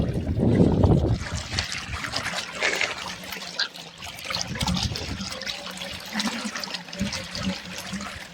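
Water splashes and trickles continuously, close by, with a louder gush at the start and a faint voice now and then.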